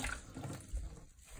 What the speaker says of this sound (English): We're gonna sponge out all that water.